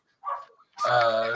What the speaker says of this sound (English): I do apologize for the dog.